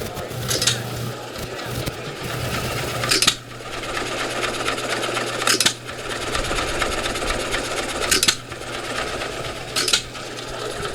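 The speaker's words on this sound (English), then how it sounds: "Jeff gets a good close up here of the hit and miss motor that's running" An old hit-and-miss farm engine running with no load, a steady chugging rumble punctuated by sharp firing bursts every couple of seconds, recorded close up.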